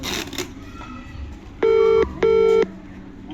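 Two loud electronic phone tones as a call is forwarded to voicemail, each lasting about half a second with a brief gap, over faint background voices.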